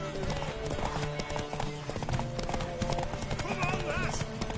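Horse hooves clip-clop steadily across a game world in The Witcher 3, sounding continuous and close, mixed under game dialogue and other busy sounds.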